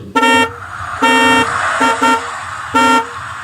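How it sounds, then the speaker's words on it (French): A traffic sound effect of car horns honking, four loud, bright toots of varying length over a low street rumble, with a couple of short blasts close together near the middle. "Ici, on va voir l'effet sonore que je vais choisir pour les voitures."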